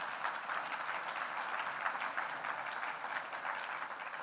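An audience at a credit union hall of fame induction ceremony applauds steadily, a dense, even wash of many hands clapping that carries on throughout at moderate volume, with no talk over it.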